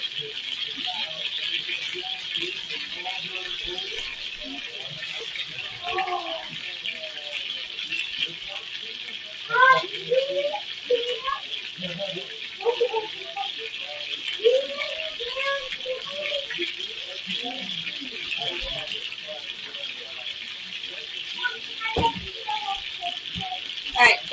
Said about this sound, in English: the rice needs to get 3 cups of water, so we're going to throw that in there right now